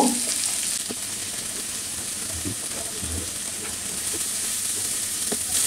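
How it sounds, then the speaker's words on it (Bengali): About a cup of chopped onion fries in hot oil, giving a loud, continuous sizzling hiss with a few faint stirring taps beneath. "এই আধা মিনিট ভেজেই এর মধ্যে আমি 1 কাপের মতো পেঁয়াজ কুচি দিয়ে দিব।"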